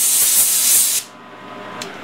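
A loud, steady hiss of compressed air blasting metal chips off a freshly die-cut threaded nut, lasting about a second before stopping abruptly, followed by a quiet pause and a brief faint puff.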